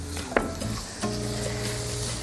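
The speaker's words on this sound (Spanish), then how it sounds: "vamos a freír primero la cebolla y luego el ajo" Onion and garlic fry in a pan with a steady, dense sizzle, while a utensil stirs and scrapes the pan, close and continuous with no speech.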